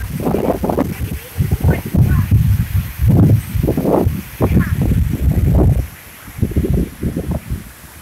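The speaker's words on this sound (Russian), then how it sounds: "Ветер." Wind blowing outdoors in loud, uneven gusts that buffet and rustle, surging and dropping in repeated bursts close to the microphone.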